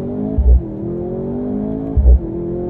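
A 2023 Mercedes C43 AMG sedan in Sport Plus mode launches hard under launch control. Its engine drones loudly and climbs in pitch, and two gear shifts each land with a brief, punchy thump.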